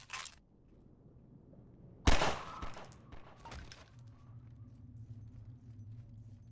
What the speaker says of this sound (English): we'll move a little bit closer and use the pistol instead